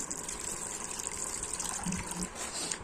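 Tamarind water being poured into a fish curry masala, a continuous close splashing gush of liquid lasting a few seconds at moderate level.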